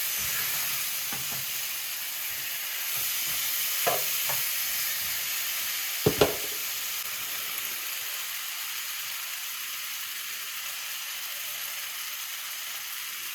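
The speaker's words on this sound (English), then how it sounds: "So allow it to just saute for a few minutes." Jamaican curry chicken sautés in a pan, giving a steady, even sizzle with a few scraping strokes as it is stirred back and forth, then a continuous hiss.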